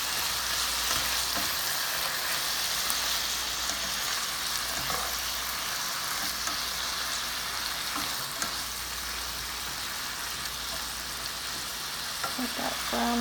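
Beef pieces sizzle steadily in a hot pan for a beef and broccoli stir fry, a continuous close hiss and crackle with a few faint clinks near the end and no talk.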